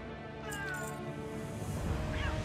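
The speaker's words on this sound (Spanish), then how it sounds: "Ese es un gato de verdad." A cat meows a few times in the World of Warcraft video game, set in the village of Glenbrook in Drustvar, close and fairly clear over a steady layer of game ambience and music.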